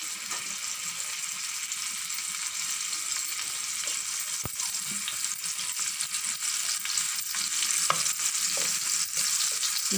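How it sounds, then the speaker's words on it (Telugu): Dried prawns fry in hot oil, giving a steady, close sizzle with scattered crackles and a few faint stirring scrapes, no voices. "ముందు కొద్దిగా ఎండ్రలు వేయించుకుందాం"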